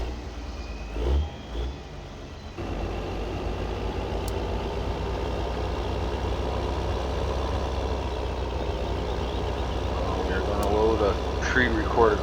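A tractor engine idles in the Farming Simulator 15 game during straw baling in Michigan, a steady low drone running continuously while someone talks over it.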